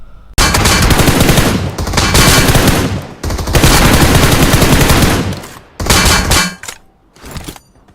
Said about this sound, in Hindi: पहले M4 से मारता हूँ, फिर उसको शॉटगन मार रहा हूँ।